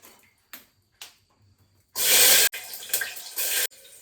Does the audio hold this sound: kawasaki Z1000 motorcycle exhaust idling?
no